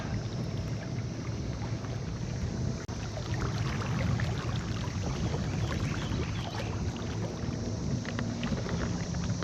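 A Lifetime Manta fishing kayak towing under a trolling motor on open water carries a continuous rushing wash with wind buffeting the microphone, fairly close and steady, and no voices.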